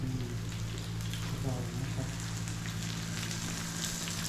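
Oily flatbread (you mo) frying in a pan, a steady close sizzle and crackle that runs throughout, with a low hum underneath.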